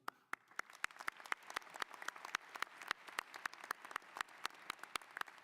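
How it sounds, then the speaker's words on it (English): A graduation audience at a UC Davis master's degree ceremony applauds the faculty, with sharp, distinct claps ringing out over a low background of wider applause, steady and fairly quiet across the whole stretch. "Let's applaud them again."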